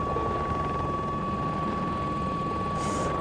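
A fighter jet in the video game Battlefield 2042 roars as a continuous, loud engine drone with a steady whining tone running through it, holding level for the whole moment without talk.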